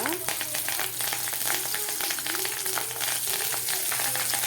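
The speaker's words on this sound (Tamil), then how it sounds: "2 வரமிளகாய், வெங்காயம் போட்டு நல்லா வணக்கி" Dried red chillies and onion sautéing in a pan for drumstick sambar, a dense, continuous frying crackle with quick stirring scrapes up close, while a voice talks faintly underneath.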